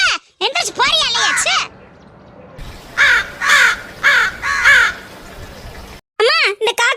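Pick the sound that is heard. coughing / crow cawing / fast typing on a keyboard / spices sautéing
crow cawing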